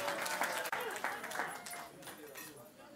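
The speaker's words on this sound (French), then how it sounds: "Applaudissez très fort pour notre maman." Audience applause for a mother at a birthday celebration, dense clapping mixed with voices and cheering, steady and fairly loud before tapering off.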